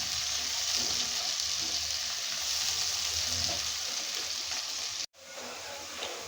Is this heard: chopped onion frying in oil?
yes